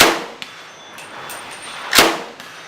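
Rifle shots striking a steel gong at a shooting range, bright metallic clangs ringing out, one at the very start and a second loud hit near the two-second mark, with a fainter tick between.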